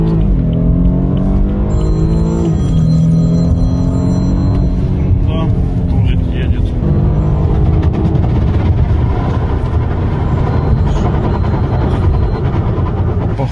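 An Audi turbo quattro car on a test drive, heard from inside the cabin as a steady, loud engine drone with shifting pitch and road rumble, and voices talking over it.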